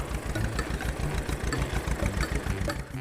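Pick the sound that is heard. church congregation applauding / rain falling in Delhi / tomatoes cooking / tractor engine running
tractor engine running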